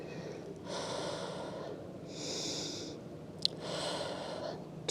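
Slow, deep breaths drawn in and pushed out during a mat Pilates exercise, several airy inhale and exhale cycles, close and fairly soft.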